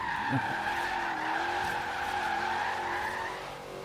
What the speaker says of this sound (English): How's that for a drift?